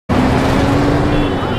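Engine and road noise of a luxury car driving along a street, a steady close rumble with a faint whine that starts abruptly and holds for the whole short stretch.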